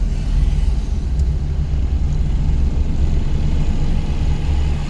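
A car's engine during a driving lesson, a steady low rumbling drone heard from inside the cabin as the speed drops, continuous and fairly loud with no talk.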